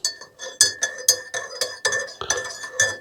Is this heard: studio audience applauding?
no